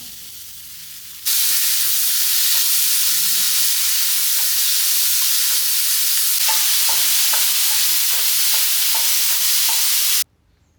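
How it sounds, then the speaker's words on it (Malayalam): Chopped tomatoes fry with onions in a hot pan, making a loud, steady sizzle. Soft stirring scrapes come more often toward the end, and no one speaks. "ഇനിയിപ്പോൾ എനിക്ക് നമുക്ക് തക്കാളി നുറുക്കിയത് അത് ചേർക്കാം"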